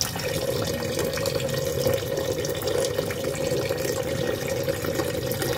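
Steady running water poured into a cooking pot continuously at close range, a constant rushing splash with no voices.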